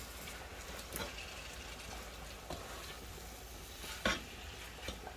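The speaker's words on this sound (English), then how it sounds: "So I'm going to brown that off. Stir it frequently, like so." Lamb mince browning in a pan while being stirred, a soft continuous sizzle broken by a few scraping knocks of the utensil, one louder near the end.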